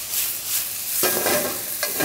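Vegetables stir-fried in a wok, a steady close sizzle with scraping stirs cutting in twice, no talk.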